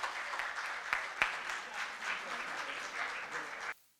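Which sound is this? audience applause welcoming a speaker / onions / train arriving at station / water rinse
audience applause welcoming a speaker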